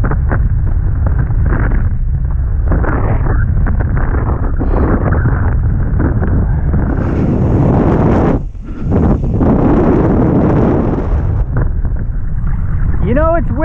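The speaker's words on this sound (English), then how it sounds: "Windy when the sand's kicking up on Jericho Beach and Spanish Banks" Strong wind on a beach roars and buffets the microphone continuously, a heavy rushing noise that surges and briefly drops, with faint voices underneath.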